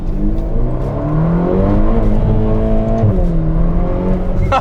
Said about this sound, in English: it has this sputter and pop that sounds so cool